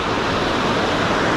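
Ocean waves at a surf point, heard as a loud, steady broadband roar of breaking surf with no pause and no voices over the short stretch.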